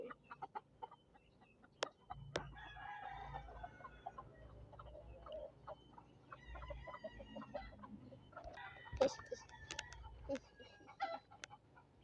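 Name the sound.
chicken clucking and crowing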